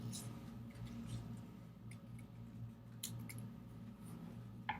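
A paper heart shape being cut out with scissors, giving a few faint, scattered snips and crisp paper crackles over quiet room tone.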